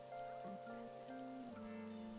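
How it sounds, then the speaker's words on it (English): Steady rain falls in the video game Persona 5 Royal, a soft, even patter spread across the whole stretch, quiet beneath a faint game music bed, with no voices. "All right, it's raining"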